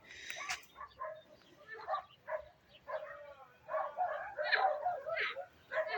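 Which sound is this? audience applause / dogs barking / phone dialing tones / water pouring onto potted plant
dogs barking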